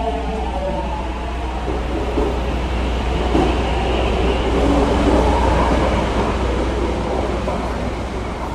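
An East Rail line train in the Roblox game pulls out of a station with a continuous low rumble and rolling rail noise that stays steady throughout.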